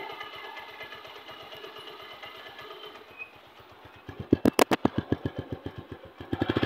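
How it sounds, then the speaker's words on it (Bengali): A 2022 4V 160 motorcycle idles nearby with a soft, regular thumping rhythm, then is revved in several sharp, louder bursts before dropping back. "সাউন্ড কন্ডিশন দেখতে পাচ্ছেন। ইঞ্জিনের সাউন্ড শোনেন।"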